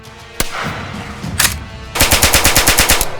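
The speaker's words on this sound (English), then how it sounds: "the distant recordings that we can use for distant gunshots in the game" Gunfire is captured up close for Sniper Elite 5. Two loud single shots are followed by a rapid automatic burst of about a dozen sharp, evenly spaced cracks, loud and close with short echo tails.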